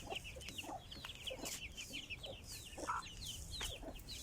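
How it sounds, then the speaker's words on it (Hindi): Aseel Mianwali chickens on a farm cluck in short, scattered calls, with a steady chorus of other birds in the background and no talk. "ये ब्रीडर मुर्गा है मियावाली."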